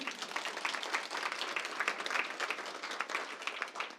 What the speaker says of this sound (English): a round of applause for all of you being here today.